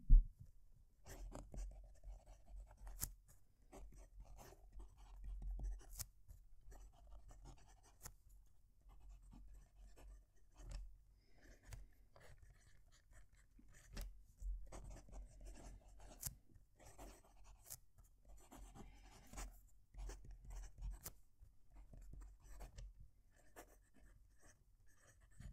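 Moonman M800 fountain pen fitted with a Bock nib writing on paper, a quiet, steady scratching with short strokes and brief lifts running throughout, close and faint, with no voices.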